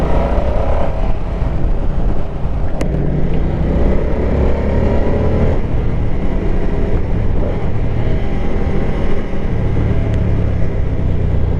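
Engine of a 2024 Moto Guzzi Stelvio motorcycle climbing through the revs under steady wind roar. The loud, dense drone swells and eases, as if heard from the rider's seat, with no voices.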